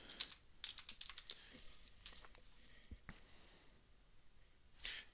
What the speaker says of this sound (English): please just type your name into your text here